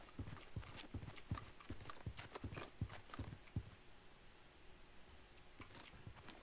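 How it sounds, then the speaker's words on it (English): Rapid footsteps in a Garry's Mod FNAF hide-and-seek game, a steady run of clopping steps that fade out after a few seconds, with faint game background. "I can hear you, footsteps."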